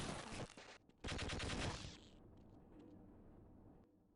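A rapid burst of automatic gunfire from the Half-Life video game during a final boss fight, loud and close, then a brief pause, a longer sustained burst, and a fading rumbling tail.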